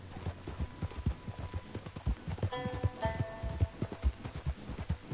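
Horse hooves clip-clop at a steady trot in Red Dead Redemption II, a regular, fairly close rhythm of soft thuds with a faint whinny partway through.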